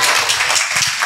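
A church congregation claps hands together in a brief, dense burst of applause, loud and close, with no speech.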